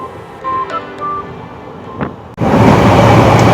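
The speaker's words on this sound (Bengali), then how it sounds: "আমাদের উত্তরবঙ্গ এক্সপ্রেস ছুটে চলল কলকাতার উদ্দেশ্যে" Faint tonal whines and a brief whoosh give way to a sudden loud, steady rushing roar of the Uttar Banga Express running fast toward Kolkata, close by.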